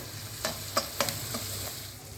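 Spoon scraping through red chili powder, plain masala and onion-garlic masala in a hot pan, a few distinct stirring scrapes spaced apart over a faint steady sizzle, nearby with no talk.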